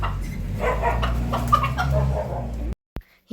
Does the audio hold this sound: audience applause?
no